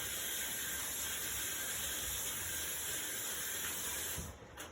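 Tap water runs steadily over food being rinsed in a home kitchen cooking class, a continuous close hiss that cuts off abruptly near the end.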